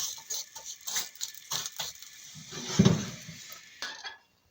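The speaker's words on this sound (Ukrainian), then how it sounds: "Помішуємо час від часу, щоб вони з усіх сторін нам просохли і підсмажилися." Pumpkin seeds rattle and patter as they are stirred in a dry roasting pan, coming in short uneven bursts of close scraping and clicking with one louder clatter near the end before it stops.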